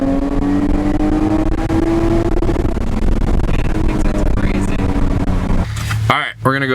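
A Jaguar F-Type S engine revs hard toward its redline, a loud, close, rising roar that holds and then cuts off sharply near the end, with a voice talking over it.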